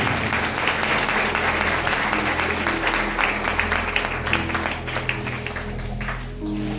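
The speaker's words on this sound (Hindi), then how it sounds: "जोरदार ताली बजाइए प्रभु को।" Sustained applause from a church congregation at a Christian worship service, a dense wash of clapping with a steady low hum beneath, continuous and fairly loud throughout.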